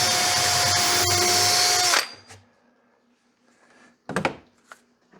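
Power drill driving screws into a repurposed shop cabinet: a loud, steady close whir for about two seconds that stops abruptly, followed by a couple of short knocks and clunks of wood.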